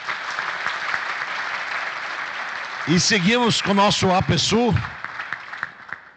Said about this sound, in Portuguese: Uma salva de palmas para o pessoal aqui.